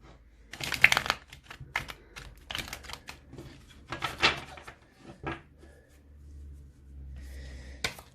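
A Gilded Tarot deck being shuffled by hand: quick bursts of riffling and tapping card noise come in short clusters, close and fairly soft, with brief pauses between them.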